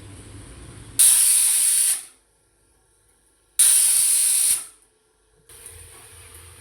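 Two long, loud bursts of hissing steam whistle from a pressure cooker cooking peas, each about a second, separated by silence, with a softer hiss starting at the end.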